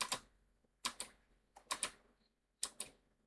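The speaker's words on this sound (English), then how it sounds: "You can hear my keyboard." Quiet clusters of crisp keyboard clicks come in short bursts separated by brief silences, close and isolated with no voices.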